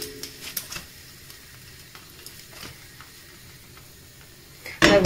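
Thin pancake with bacon frying in a pan of leftover bacon fat gives a faint, steady sizzle with scattered ticks, ending in a sudden louder clatter.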